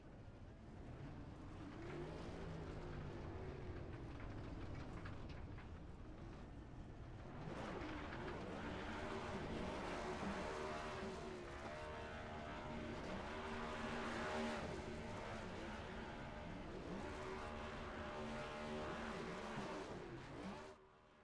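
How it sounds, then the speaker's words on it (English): A race car doing a burnout at Daytona International Speedway in a racing video game: a sustained engine drone with shifting harmonic revs that swell louder midway, carrying on steadily without talk. "Interesting burnout he's got going on."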